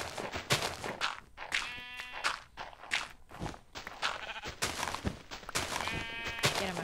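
A blocky Minecraft sheep bleats twice in short, nasal calls, set among faint, busy game noise close by.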